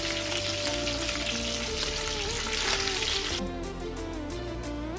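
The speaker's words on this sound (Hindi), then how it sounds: "ये देखिए, अब हमारी मच्छी फ्राई हो चुकी है।" Fish sizzling and crackling in hot oil in a kadhai, a loud, dense, continuous fry that eases slightly partway through, with no talk.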